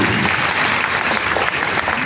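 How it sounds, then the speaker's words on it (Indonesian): A congregation at a GTI church's Christmas Eve service claps in a thick, continuous burst of applause, loud and close, filling the whole moment without a voice breaking through. "Tepuk tangan yang bangga buat Tuhan"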